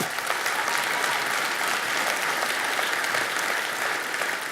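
A church audience claps for volunteers, a dense, even wash of applause that holds at full strength from start to finish, loud and close with no voices standing out.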